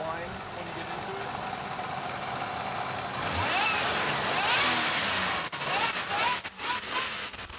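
A Lexus LX 450 engine starts and settles into a mid-pitched idle with a slight whine, heard close by as people talk.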